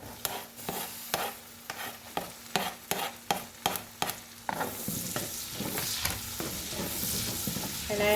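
Garlic and onion sauté in a pan, starting with a run of sharp, evenly spaced utensil scrapes and taps over a low hiss that swells into a steady, close sizzle.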